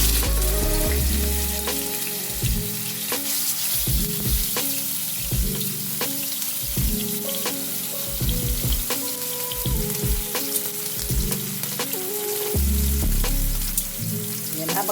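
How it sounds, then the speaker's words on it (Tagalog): A yellowfin fish steak fries in hot oil, giving a steady, close crackling sizzle with rhythmic bursts of spattering throughout, and no voices. "Mainit na yung ating mantika, pwede na natin ilagay yung ating yellow pin."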